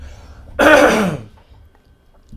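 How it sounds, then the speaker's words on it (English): A single harsh cough or throat-clearing burst, loud and close, lasting about half a second before fading into quiet room noise. "I'm gonna be coughing a lot throughout this video"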